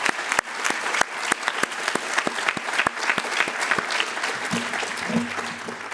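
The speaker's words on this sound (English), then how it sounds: "So a big round of applause, please, to all those that sat here." Audience applause at a maritime event marking the International Day for Women in Maritime, steady and continuous with distinct individual claps popping out, and a low hum entering near the end.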